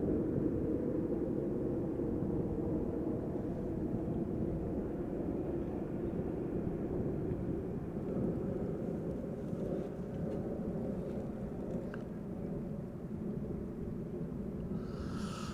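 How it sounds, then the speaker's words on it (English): An Embraer jet departs from runway 24 at Amsterdam Schiphol and passes overhead, its engines a broad, steady low roar and rumble that holds for the whole stretch with no voices. "Also departures once again to the north from runway 24, passing overhead. Another Embraer probably on its way to a Scandinavian destination."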